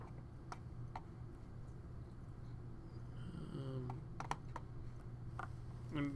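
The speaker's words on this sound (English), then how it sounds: "I'm going to do that by typing ZE." Keys tapped on a computer keyboard while entering a zoom command in drafting software, a few faint scattered clicks over a steady low room hum.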